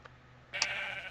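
A sheep bleats in the video game Minecraft, a single short wavering bleat after a faint blip, fairly quiet over a low steady background hum.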